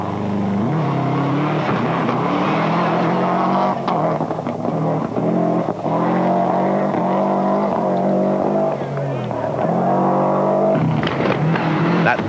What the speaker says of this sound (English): That beat of that Flak 6 engine can't be mistaken anywhere.